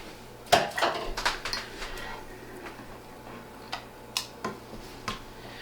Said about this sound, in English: I'm trying to get as much of the filling off the whisk as possible